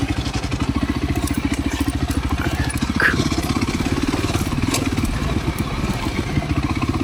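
An off-road motorcycle rumbles over a rough dirt road in the Idanre Hills of Nigeria, its engine pulsing steadily and loudly close by while the bike clatters and thumps over bumps.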